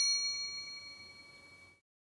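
A single bright notification bell ding rings out clearly and decays smoothly into silence, with no voices.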